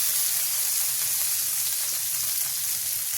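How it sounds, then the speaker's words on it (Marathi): Oil and a sprinkle of water hiss on a hot dosa tawa, a loud, even, unbroken sizzle close up with no voices. "तव्यावर थोडंसं तेल टाकते आणि थोडंसं पाणी असं शिंपडायचं"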